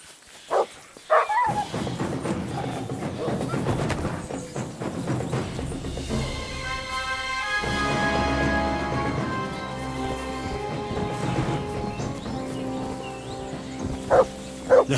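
A dog barking in the video game Kingdom Come Deliverance II, with several sharp yips and barks near the start and end over a sustained musical and ambient game backdrop.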